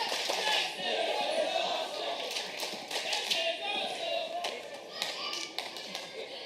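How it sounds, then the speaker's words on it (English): A pro wrestling crowd at a Glory Pro event claps and cheers in scattered bursts while a commentator talks over the noise at moderate volume. "The crowd really getting into it."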